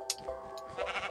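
Sheep bleat in the video game Minecraft, a few short bleats close together over quiet background tones.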